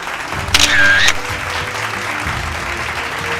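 Loud, dense applause from the audience at a News18 BizNext business leaders' stage event in Madhya Pradesh, sustained clapping with a brief bright electronic tone early on.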